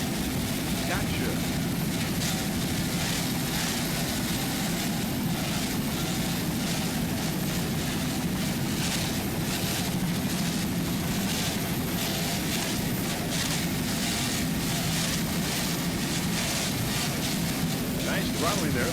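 Offshore racing powerboat at the 1999 West Palm Beach APBA race, its engines throttling with a steady loud roar that rises and falls slightly throughout, a commentator's voice talking over it.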